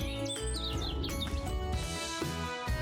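Birds chirping over bright, music-heavy background sound in a children's DIY doll wedding scene, quick high tweets repeating briefly above a steady instrumental bed.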